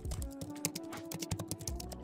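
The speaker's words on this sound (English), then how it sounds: "or even a keyboard typing." Rapid irregular keyboard typing, a quick run of sharp key clicks and taps heard close and clear with no voices.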